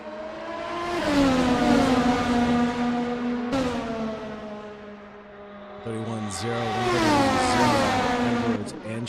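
Race car engines at Silverstone roar close and loud for several seconds, their pitch climbing and dropping through gear shifts with a sharp break midway and a rising whine near the end.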